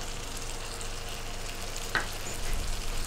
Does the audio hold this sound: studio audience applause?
no